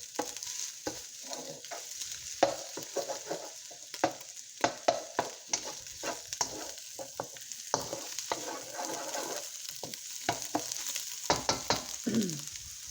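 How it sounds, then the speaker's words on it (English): Scrambled egg stirred and broken up with vegetables in a hot pan for shrimp fried rice, with a continuous close sizzle and repeated scraping, tapping stir strokes in an uneven rhythm. "We're going to go ahead and mix it together with the veggies. Break it up as best as you can."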